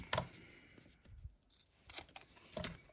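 Scissors cut through a paper Christmas tree decoration in a few short, close snips separated by pauses, with quiet handling noise in between.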